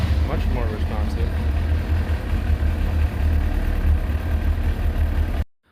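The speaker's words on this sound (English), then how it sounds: "Is the engine definitely runs a lot smoother, like a whole lot smoother." A Kawasaki sport motorcycle engine from the ZZR600/ZX6R/ZX9R line, fitted with a Factory Pro ignition advance rotor, idles with a steady, loud, low rumble that continues evenly until it cuts off at the end, while someone speaks over it.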